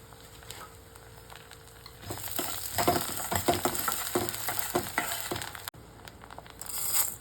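Coriander seeds, fenugreek and sesame seeds roast in a dry pan for a cranberry chutney, a soft crackle with repeated scraping stir strokes and light patter, growing busier after a quiet start.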